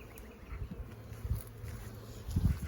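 Honeybees buzzing around an open overwintered hive during inspection, a faint wavering hum with louder swells as bees fly close, no speech.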